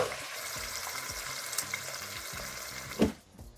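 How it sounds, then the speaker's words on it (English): Steady, crackling sizzle of pot roast meat searing in hot tallow, loud and close, with a brief clatter near the end before it drops away. "You wanna hear it sizzle. Assertive sizzle."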